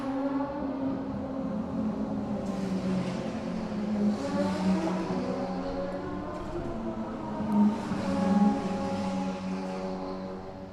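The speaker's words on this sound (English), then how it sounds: "Raider Nicole trundles through pit lane" A Radical race car at Laguna Seca trundles through pit lane at low speed, its engine droning and lightly revving throughout, fairly close and steady, with no voices over it.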